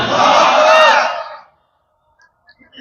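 Large crowd shouting the takbir in unison, one loud sustained roar of many voices lasting about a second and a half before cutting off into near silence with faint stray noises.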